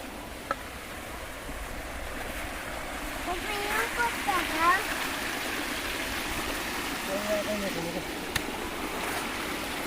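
Floodwater from heavy rain swirls and rushes through a waterlogged farm field, a steady broad gush with a slight surge midway, heard under a voice talking nearby.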